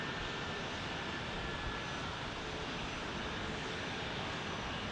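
An airliner on an early flight in from San Diego, arriving at Phoenix Sky Harbor, sounds as a faint, even, distant engine hum that holds steady throughout.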